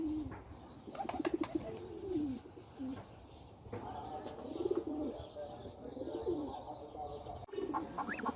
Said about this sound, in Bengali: এই যে দেখতেছেন কি সুন্দর একটা ঘর এই ঘরের মধ্যে কবুতরের বাসা আর কি